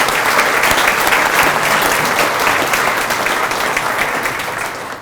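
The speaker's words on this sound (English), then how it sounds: "We have a little applause for our people." Audience at a Veterans History Project event applauding steadily, a dense, loud wash of clapping that carries on for several seconds and fades slightly at the end.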